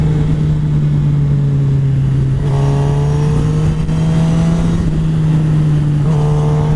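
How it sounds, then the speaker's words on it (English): A motorcycle rides by outdoors, its engine droning loudly and steadily with a rising and falling pitch as the throttle shifts, close to the listener throughout. "Here comes another bike."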